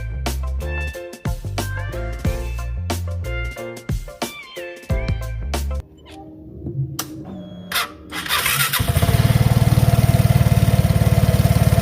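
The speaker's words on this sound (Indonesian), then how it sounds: "ini gasnya ternyata nyangkut, otomatis idlenya itu cukup tinggi banget" A Vespa Sprint/Primavera scooter on its centre stand idles high from a stuck throttle, first as choppy clattering bursts, then settling into a loud, steady, buzzing engine drone.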